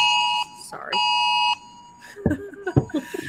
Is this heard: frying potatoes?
no